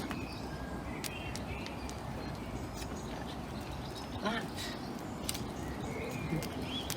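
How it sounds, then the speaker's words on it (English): Small birds chirp and a dove coos at a distance outdoors, scattered short calls over steady wind-like background noise, with a person speaking briefly. "Hopefully the birds will stay."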